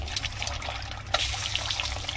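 Eggs fry in a pan with spices for an egg potato curry, giving a soft, steady sizzle and crackle with a slightly louder spatter partway through.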